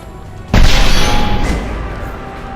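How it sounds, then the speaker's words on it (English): Unstable crates blowing up in a Mass Effect 2 firefight: one sudden, loud, deep boom with a long rumbling tail that slowly fades under steady background noise. "A misplaced shot could cause a significant explosion."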